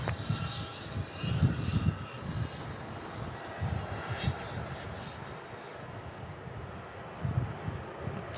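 Jetstar 707 airliner taking off from runway 34 at Melbourne Airport, a steady broadband engine roar with low rumble holding at moderate distance throughout.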